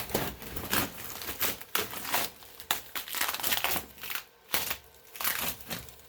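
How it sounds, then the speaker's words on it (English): CNC-cut foam parts are peeled off tape in quick bursts of crinkly, tearing rustles, close and fairly quiet, repeating irregularly with short pauses between pulls. "it's just a matter of peeling it off the tape."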